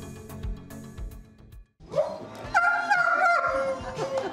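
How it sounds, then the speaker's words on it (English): Short dog barks ring out near and loud, a quiet rhythmic stretch followed by a longer burst of yips and barking; the dog is Major, a German Shepherd adopted from a shelter. "Let's find out a little more about Biden's second dog, Major"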